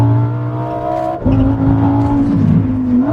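A Lamborghini accelerating hard nearby, steady engine drone rising in pitch, a sharp shift, then a climbing, rasping roar, loud and alone without talk.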